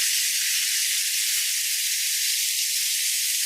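A T-bone steak, just flipped, sears in a hot pan with a steady, loud, close sizzle that holds without a break from start to finish and has no talk over it.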